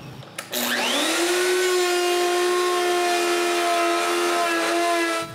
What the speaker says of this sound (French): je mets une mèche dans la toupie et j'enlève du bois